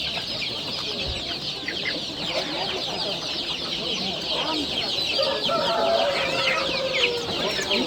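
Chickens and roosters clucking at a poultry market, a dense, continuous chorus of overlapping clucks and squawks close by, with faint voices murmuring in the background.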